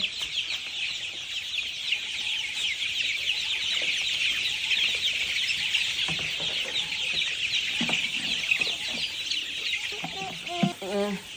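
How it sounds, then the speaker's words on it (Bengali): A flock of farm chickens clucks busily while a small-scale farmer feeds them, a dense, continuous chatter of overlapping clucks close by, with a few louder calls toward the end. "ক্ষুদ্র উদ্যোক্তা মুরগিকে খাবার দিচ্ছে।"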